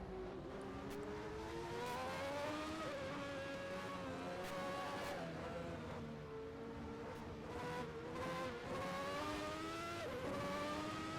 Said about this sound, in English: Nailing that throttle coming out of the corner